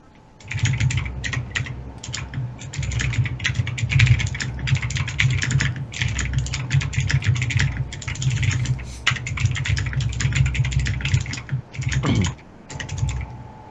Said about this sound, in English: Someone's keyboard's coming through pretty clearly.